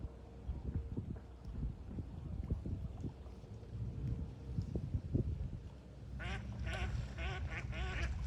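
Ducks quack in a short burst of several nasal calls near the end, following a stretch of gusty wind noise and low rumble outdoors.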